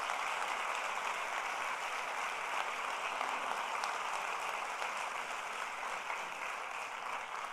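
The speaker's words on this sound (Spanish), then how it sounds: "también quiero pedir un gran aplauso para nuestra artista" Steady applause from an audience at a ceremony honoring an artist, a dense, even wash of clapping that holds at a constant level for the whole stretch with no voices on top.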